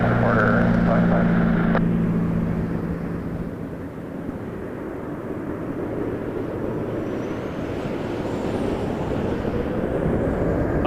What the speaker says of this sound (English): hear those reversers. So that was Air Canada 621 from Halifax.